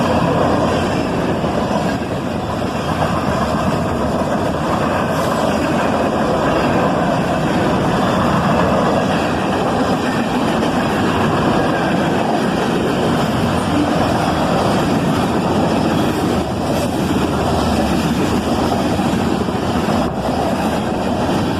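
A southbound manifest freight train led by a pair of ES40DC locomotives rolls past with covered hoppers, tank cars and gondolas, a loud steady broadband rumble holding throughout without letup.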